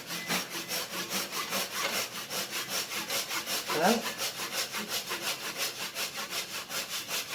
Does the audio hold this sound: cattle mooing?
no